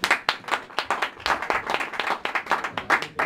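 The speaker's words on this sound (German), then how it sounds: "Kurzen Applaus für die." Brief applause from the audience at an ice hockey press conference for EHC Bayreuth against TSV Peißenberg, with distinct, close-sounding claps in a quick, uneven patter.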